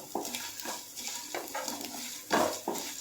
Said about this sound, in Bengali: এই মশলাটা আমি একটু ভেজে নিই ঘিয়ের মধ্যে